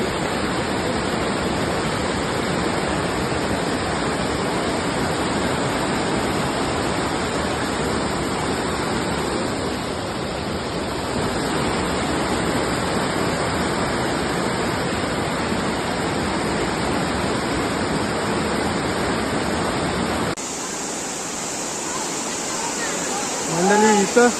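Heavy floodwater rushing back out of a drain after heavy rain roars steadily and close by, a dense continuous wash that barely changes before shifting tone near the end.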